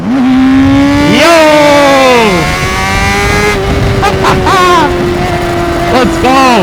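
A 650 motorcycle accelerating hard nearby, its engine note climbing through quick revving sweeps and gear changes, loud and continuous, with another engine whining in the background.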